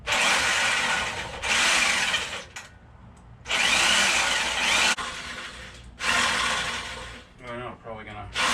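Loud, close power drill whirring in four or five long bursts while drilling holes, separated by short pauses, with some faint grinding at the end.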